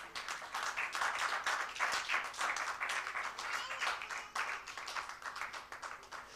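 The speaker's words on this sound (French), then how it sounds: "Acclamons pour les seigneurs." Church congregation at a Wednesday weekly worship service clapping together, a steady dense wash of many hands that swells and dips in waves, fairly close and lively, with faint voices mixed in underneath.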